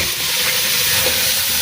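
Fish fry in a pan in a home kitchen, giving off a constant hissing sizzle that stays close and unbroken for a short moment, with no talking.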